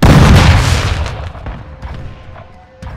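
A flashbang grenade goes off in Call of Duty: Modern Warfare II with a loud, sudden close blast that fades into a long ringing tail, followed by a few scattered distant shots and pops.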